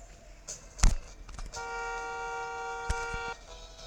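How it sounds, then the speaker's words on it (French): A car horn honks in the Parking Mania video game, one sustained tone of about two seconds, loud and clear, with brief clicks and thumps before it and a sharp tap near its end. "Vous savez pourquoi je klaxonne?"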